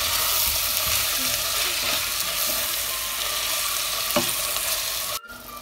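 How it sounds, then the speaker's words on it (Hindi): Peas and masala sizzle and fry in a pan over a medium gas flame, with scraping stirs and a steady hiss throughout and a sharp clink of the spoon near the end. "मटर डालेंगे इसमें और फिर अच्छे से मिक्स करके 2 मिनट तक मीडियम गैस पर पका लेंगे"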